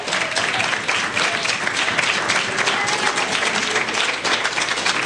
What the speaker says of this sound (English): If you'll clap again unto the Lord.